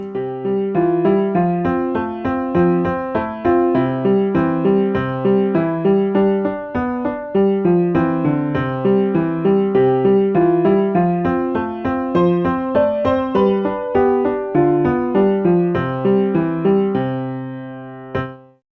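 Piano samples play an eight-bar song back in SunVox, with left-hand and right-hand parts at equal volume: steady, continuous chords and melody notes, loud and clear, with the final note ringing out alone.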